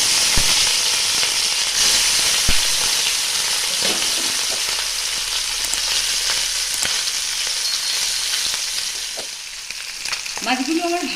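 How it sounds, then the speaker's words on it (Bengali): Small mourola fish fry in hot oil in a home kitchen, a loud constant sizzle with sharp spitting pops and crackles, ending with brief clattering. "এবার মাছটা ভাজবো তেলটা গরম হয়ে গেলে।"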